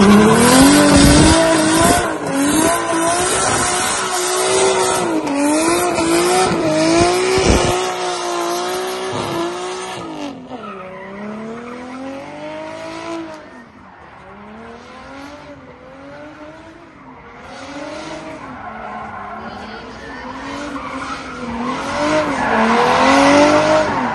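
Drift cars on Falken tires, including a four-door Nissan Skyline, screech and skid through long sliding passes with engines revving hard, loud and continuous, tire squeal rising and falling with each drift.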